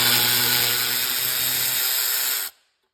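A power tool runs continuously while removing 14mm flywheel bolts during a Chevrolet C10 LS engine swap, a loud, steady high-pitched whir that stops abruptly near the end.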